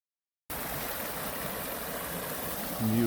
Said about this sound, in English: all this water in here is just coming up out of the ground and turns into a little creek up the trail here